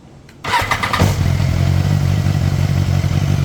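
A motorcycle is started for a battery charging system check: a brief starter whir, then the engine catches and settles into a loud, steady idle close by.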